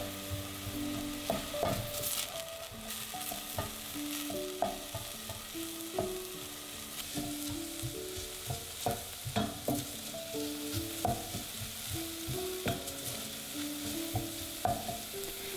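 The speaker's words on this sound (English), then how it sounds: "sauté an onion with a few cloves of garlic over medium heat until" Onion and garlic sautéing over medium heat make a continuous crackling sizzle, broken by frequent knocks and scrapes of a utensil stirring the pan, close and fairly busy throughout with no talking.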